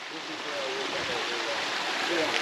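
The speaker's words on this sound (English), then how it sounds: "we've stopped at a beautiful spot on Pistol Creek." Pistol Creek flows along the Daniel Boone Backcountry Byway in a steady, close rushing wash of water, with a faint voice underneath.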